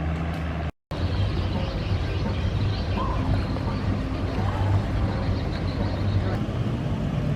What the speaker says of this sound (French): Le bac de scooter à Timbulu.